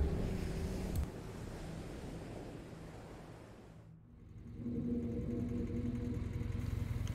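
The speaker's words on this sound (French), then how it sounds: "Le bruit du moteur résonna bientôt dans la nuit." A low, steady car engine rumble that dips briefly midway, then returns a little louder and keeps running at an even idle.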